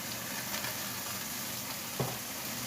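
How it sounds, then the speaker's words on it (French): A pork roast heats in a pan with a steady, even sizzle of fat frying throughout, close up, with one faint clink partway through and no talk. "j'ai mis à chauffer ma viande"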